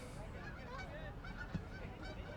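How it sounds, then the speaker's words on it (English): Geese honking repeatedly as they fly low, about 30 to 40 feet, over a high school boys soccer field during a game, their calls fairly clear over a steady outdoor crowd and field background. "We got the geese flying probably 30, 40 feet over the field."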